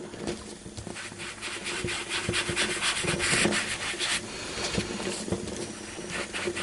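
A sponge dauber scrubs ink onto paper around a stamped card image on a nonstick craft mat, producing a continuous soft, close rubbing and scuffing with small irregular pats.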